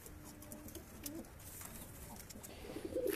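Pigeons in a high-flying pigeon breeding loft coo softly and repeatedly, low murmuring calls overlapping at a moderate distance with a faint background hum.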